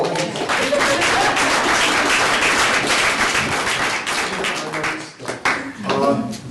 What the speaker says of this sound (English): I think we should applaud you.